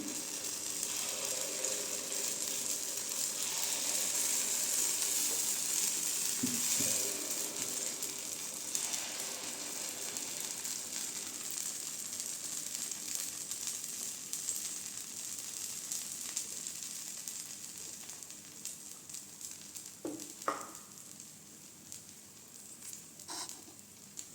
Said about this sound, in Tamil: இப்போ மாவு ஊற்றிக்கலாங்க டம்ளர்லையே